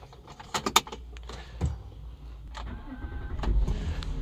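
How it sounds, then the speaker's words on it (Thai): A 2003 BMW 730Li starts up: keys jangle and clicks sound close by, the starter cranks briefly and the engine catches into a low, steady idle that hums on to the end, with no talking. "สตาร์ทรถกันนะครับ"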